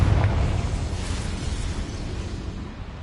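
A Confringo blasting spell detonates in Hogwarts Legacy, a deep rumbling boom that starts loud and slowly fades over a few seconds, with no voices over it.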